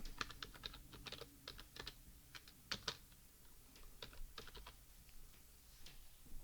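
Fingers tapping on a computer keyboard while a search term is entered, uneven bursts of close, crisp key clicks with short pauses, quiet and with no one speaking.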